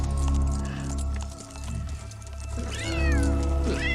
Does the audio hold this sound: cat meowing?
yes